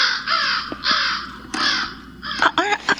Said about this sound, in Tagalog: Malaking ibong uwak?